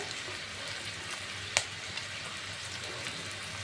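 Whole garlic cloves fry in oil alongside fish for a Bengali kasundi fish dish, a steady close sizzle with one sharp pop partway through and a few softer crackles after.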